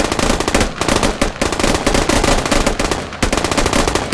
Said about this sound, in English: Y'all are firing way off target.